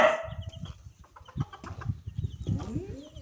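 Backyard chickens cluck in soft, close, irregular bursts, with a brief higher call near the start.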